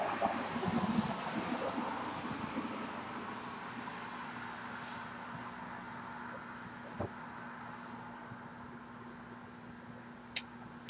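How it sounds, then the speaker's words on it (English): Steady wind rushing across an open outdoor space, a continuous broadband roar with a faint hum and a couple of brief knocks. "It's just so windy out here that the cigar tends to burn wavy in the wind"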